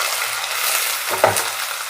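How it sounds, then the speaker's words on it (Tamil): Chopped onions and tomato sizzle in a hot pan, with a soft steady frying hiss and a brief scrape of stirring partway through. "வெங்காயம் நல்லா இந்த மாதிரி ப்ரௌனாக வணக்கிற அளவுக்கு நல்லா வணங்கி விட்ருங்க"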